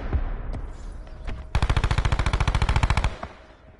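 Fast automatic gunfire from a Stingray weapon in a shooter video game, a rapid burst of about twenty evenly spaced loud shots lasting around a second and a half, preceded by a few scattered single shots and game noise.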